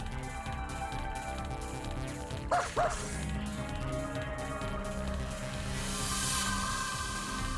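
A puppy in the horror video game Nightmare at Green Lake gives two quick barks in the middle of the clip, set over a steady ambient game soundscape with a rising hiss near the end.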